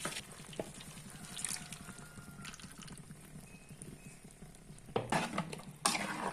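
Mangalorean chicken gasi, chicken cooked in masala, being stirred in a pan: soft scraping and a gentle sizzle run throughout, and sharper spoon-on-pan scrapes come louder near the end.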